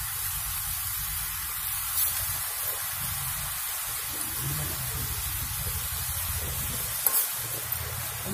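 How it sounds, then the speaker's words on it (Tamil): Murukku frying in hot oil on a wood-fired stove gives a steady, soft hiss and sizzle throughout, with a couple of faint pops near the start and toward the end, and no talk. "எண்ணெய் நல்லா சூடானதுக்கு அப்புறம் இந்த முறுக்கை ஒவ்வொன்னா எடுத்து போட்டுடலாம்"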